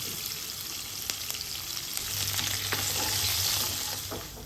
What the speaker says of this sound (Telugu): ఇప్పుడైతే ఉల్లిగడ్డలు అయితే మంచిగా ఇట్లా నూనెలో ఉడికిపోయినాయి